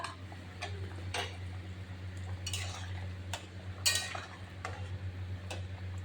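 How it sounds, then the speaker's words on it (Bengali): Slit green chillies are added to a tomato curry in a pan: a few faint, scattered clinks and taps of a utensil against the pan over a low, steady background hum. "আমি কাঁচা লঙ্কা চিড়াগুলো দিয়ে দিচ্ছি।"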